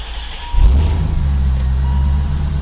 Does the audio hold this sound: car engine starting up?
yes